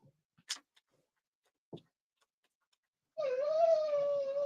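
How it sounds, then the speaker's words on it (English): A dog gives a sustained high, wavering whine near the end, after a few faint scattered ticks and clicks in near-silence. "Yes, I have a dog that's whining right now."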